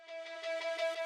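A reversed ambient synth shot in a melodic drum and bass intro, dry with no delay or reverb, swelling in steady pulsing waves for about a second before cutting off abruptly, played alone.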